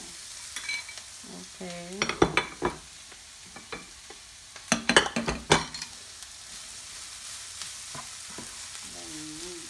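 Pork fried rice with leftover pork chop and broccoli being stirred in a pan, bursts of scraping and clattering over a quiet sizzle, with a voice speaking briefly between the stirs.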